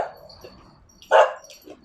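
Dogs in a small house bark at someone passing the front door: one sharp, fairly close bark midway, with softer yips around it.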